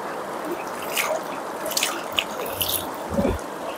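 Cold river water trickles and drips near a riverside night campsite, soft scattered droplets and light splashes close by, with brief sounds of movement over a low background.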